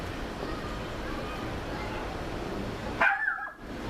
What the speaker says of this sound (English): if you hear my dogs in the background, please don't mind them